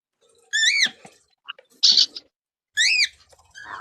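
Pet parrots give a few short bursts of whistled, warbling calls and chirps with quiet gaps between them. The calls are close and fairly clear, with no talking over them.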